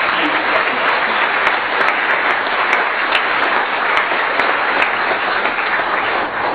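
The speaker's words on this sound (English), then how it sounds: "let's give a big round of applause for those fantastic" An audience at a speech breaks into steady, sustained applause, a dense wash of many hands clapping at an even level throughout.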